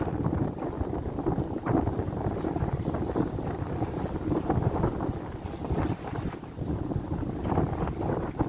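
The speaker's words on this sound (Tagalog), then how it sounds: "Yan talaga yung hangin." Steady, strong wind roars and buffets the microphone throughout, a constant low rumble with no voices.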